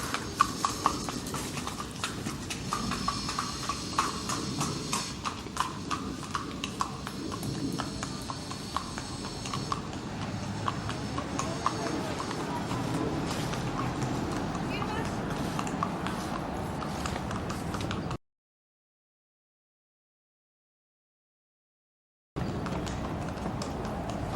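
Horse hooves clip-clop steadily on a road in the Irish village of Inistioge, County Kilkenny, a close rhythmic walking beat that runs under talking and street noise, then stops briefly before a short return.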